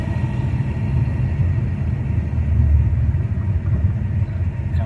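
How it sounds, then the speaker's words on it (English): A Holden VZ HSV car with a 6L80 automatic gearbox downshifting under braking, heard from inside as a steady, fairly loud low engine rumble that swells slightly midway, with no talking. "as you start to brake, gearbox will downshift automatically by itself"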